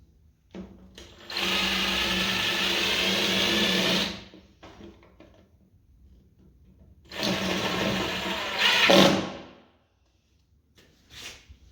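Two bursts of a power drill driving screws into an IKEA cabinet, each lasting a few seconds, separated by quiet stretches with light knocks and handling sounds.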